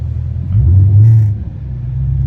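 Chevrolet Camaro ZL1 1LE engine rumbling while driving at night, a steady low drone that swells briefly as if revving, then settles back to a cruising hum with no talk.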